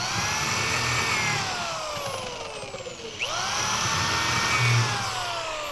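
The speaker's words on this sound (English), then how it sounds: "we're going to drill some pilot holes here" A power drill whines steadily as it bores pilot holes into the wood of an end table's magazine holder, its pitch sweeping down and rising again midway, loud and close.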